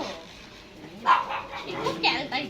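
A pet farm dog, Rocks, lets out a few close, sharp barks and yips beneath ongoing conversation and laughter from nearby people.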